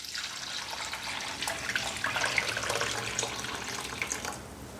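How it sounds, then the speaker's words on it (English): Homemade chicken stock pours through a strainer into a pot, a steady liquid trickle and splash that swells briefly midway before easing off. "I'm going to strain more of this into this pot."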